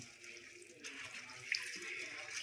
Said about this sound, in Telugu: ఇట్లా కడుక్కొని 3 సార్లుగా కడుక్కొని శుభ్రంగా వడగట్టుకొని వడేసుకోవాలండి మనం.